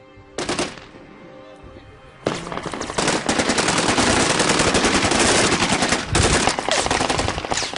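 Heavy gunfire from Kalashnikov rifles and machine guns in a rebel battle, a few opening shots and then a dense, loud, continuous burst of rapid automatic fire.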